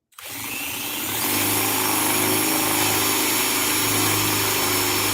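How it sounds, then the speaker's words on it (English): A power drill with a masonry bit whines steadily and loudly for several seconds, grinding continuously with a droning low hum beneath the high-pitched buzz. "you have to have a masonry bit on your drill bit"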